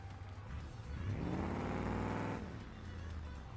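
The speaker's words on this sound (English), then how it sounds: "It's a clean old Ford Crown Victoria. And if we fire it up, you're going to see exactly. Listen to that." Engine of a clean old Ford Crown Victoria in BeamNG Drive, starting and running at a steady idle, swelling into a louder revving stretch in the middle before settling back to a low, even hum.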